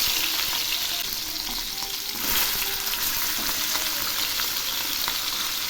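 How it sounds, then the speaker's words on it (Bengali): Pieces of katla fish fry in a pan of hot oil with a steady, close sizzle, broken by a brief scrape and stir as the pieces are turned over. "এক পাশ ভাজা হয়ে গেছে, এবার উল্টে দিচ্ছি"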